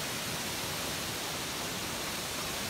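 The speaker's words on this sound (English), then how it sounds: "This is the waterfalls from Iligan, Leyte." Gunhuban Falls in Leyte roars as a dense, steady rush of falling water, loud and close, a continuous broadband wash with no voices over it.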